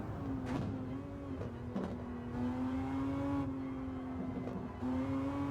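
A Ferrari engine in a racing video game at the Tsukuba circuit, droning continuously near and loud with steady pitch and brief revving shifts in between, no talk over it.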